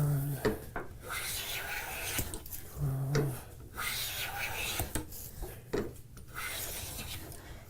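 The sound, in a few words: hand plane taking shavings off wood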